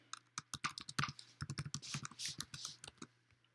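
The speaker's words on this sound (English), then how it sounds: "you'll go into the username and you type in your information" Rapid, close computer keyboard typing with crisp individual keystrokes runs in quick bursts, briefly pausing and then resuming, loud over a faint hum, with no talking.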